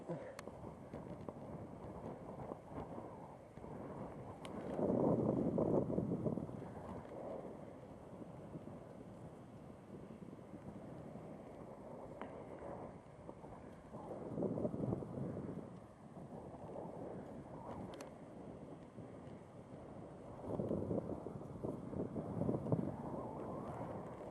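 Gusting wind buffets the microphone in low roaring surges every several seconds, with steady rushing noise between the gusts.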